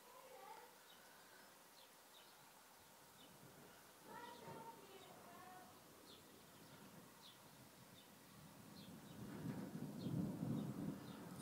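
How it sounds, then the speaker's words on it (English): Distant thunder rolls faintly during a thunderstorm, a low rumble swelling toward the end beneath chirping birds and insects, with quiet voices talking now and then. "There's the thunder."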